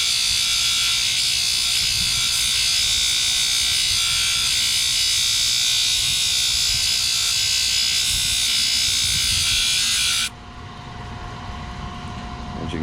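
A rock is ground to a bevel on a grinding wheel with a loud, steady, high-pitched whining buzz held for about ten seconds, then drops abruptly to a quieter lower hum.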